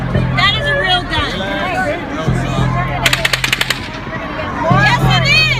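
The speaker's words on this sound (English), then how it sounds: "That is a real gun." A rapid burst of real gunfire, several quick shots in a row, cuts through a noisy crowd, with people talking and shouting loudly throughout.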